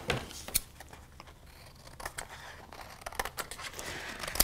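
Scissors snip through paper while dog shapes are cut out for a kids' Picasso-style 3D dog art project, a series of close, crisp irregular cuts with light paper rustling between them and no talking.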